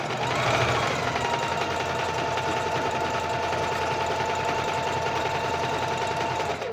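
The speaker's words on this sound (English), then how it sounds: "I'm only going to show you one side of me sewing this" A sewing machine stitches fabric in a continuous, even mechanical whirr that runs close and loud from start to finish, with no talking.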